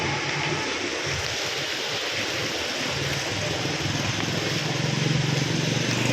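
Water from a waterfall rushing fast during a monsoon downpour, a steady loud broadband roar with a low engine-like rumble mixed in, continuous throughout with no voices.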